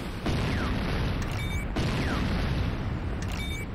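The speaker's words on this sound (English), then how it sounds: "GDI Tiberium Refinery destroyed." A GDI Tiberium Refinery blows up in the Renegade video game. Two heavy booming blasts land about a second and a half apart, each with a whistling sweep and metallic ring, over constant battlefield rumble.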